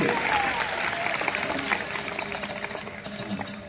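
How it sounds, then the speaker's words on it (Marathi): A school audience claps to welcome guests at an event, a sustained burst of applause that slowly fades, with voices murmuring underneath. "जोरदार टाळ्या वाजवा स्वागतासाठी."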